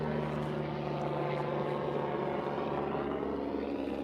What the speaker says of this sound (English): I have a helicopter flying over.